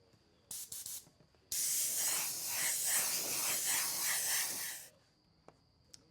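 A spray can hisses steadily for about three seconds as white paint is applied to a Tekno RC ET48 car body, preceded by a few brief clicks and sprays, loud and close with no talking.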